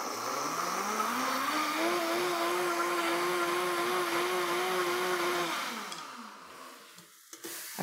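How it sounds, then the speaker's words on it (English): A countertop blender whirs hemp hearts into a plant-based sauce, its motor rising in pitch, holding a loud steady roar, then winding down, with a few faint clicks at the end. "And we're gonna blend this up to create our spice or sauce."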